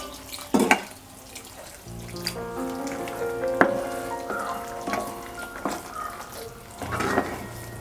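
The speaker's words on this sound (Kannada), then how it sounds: "ನನಗಿಲ್ಲಿ ತೆಳ್ಳಗೆ ಬೇಕಾಗಿರೋದ್ರಿಂದ ನಾನು ಸ್ವಲ್ಪ ಬಿಸಿನೀರು ಆ್ಯಡ್ ಮಾಡ್ತಾ ಇದ್ದೀನಿ." Hot water is poured into a pot of khara pongal in a home kitchen, a steady splashing pour with a few light metallic clinks, fairly close and with no voices.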